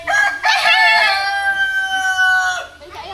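Chickens and a rooster being fed corn at a farm in Cameron Highlands; a rooster lets out one long, loud crow close by, with short clucks at the start.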